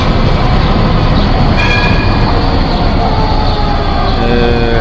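A tram rolling past on a city street, loud and close, with a continuous rumble of wheels on rails and brief metallic squeals from the wheels.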